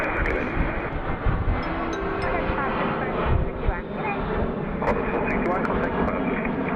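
Airliner flying at Sydney Airport, heard as a steady, broad engine roar holding level throughout, with background voices and radio chatter audible over the continuous rumble.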